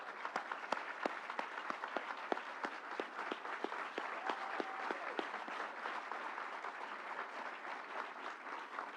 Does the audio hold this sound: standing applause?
yes